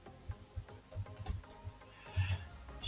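Computer keyboard being typed on in a Kali Linux terminal, a short run of light, irregular clicks and taps, close but fairly quiet with no talking.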